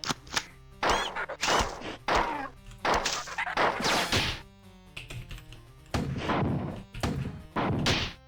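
Grenade launcher explosions in the classic PC game Marathon, a series of loud, abrupt crashing blasts, roughly eight of them, spaced irregularly with brief quiet gaps between.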